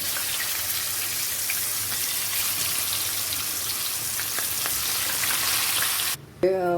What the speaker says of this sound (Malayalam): ഈ ഓയിലിനകത്ത് നമുക്ക് ചിക്കൻ വറുത്തെടുക്കാം.